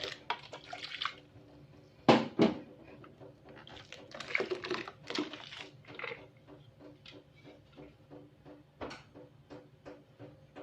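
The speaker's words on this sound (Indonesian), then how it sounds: "Kita cuci di blender tadi juga boleh." Water runs and splashes while a blender is rinsed out in a kitchen during tomato sauce making. Irregular close bursts of sloshing and clatter come and go, with short knocks and clicks between them.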